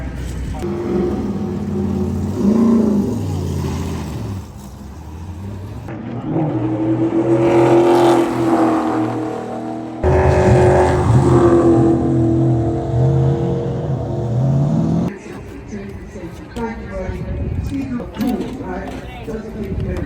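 A race car engine revving during a testing session for a 14-year-old driver, loud and sustained with rising and falling pitch in several bursts, heard under people talking throughout.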